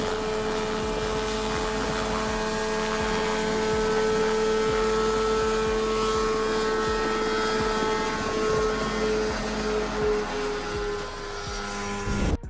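A Revolution Mini 500 ultralight helicopter runs with a steady whirring engine tone and faint rhythmic rotor pulsing, holding a constant, moderately loud drone for the whole stretch.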